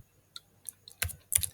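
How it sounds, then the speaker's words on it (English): Computer keyboard typing in short bursts of clicks, a few isolated taps followed by two denser clusters of keystrokes, close and moderately quiet with no talking. "what am I even typing?"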